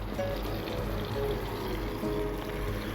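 Sauce stock poured through a kitchen strainer and pushed with a 2-ounce ladle, making a steady close liquid pour and trickle with faint clinks, no talking.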